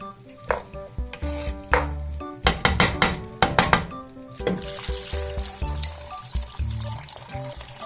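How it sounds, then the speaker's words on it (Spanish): Water is poured into a pot of Mexican-style white rice with poblano strips and corn. Clinking cookware comes first, then a steady, fairly close rushing pour dominates the second half. "y le vamos a agregar el agua"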